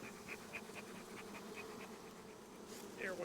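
Honeybees buzz around an opened Cypress Creek hive as a frame is slid aside, a dense steady drone up close with brief louder passes near the end and no talk.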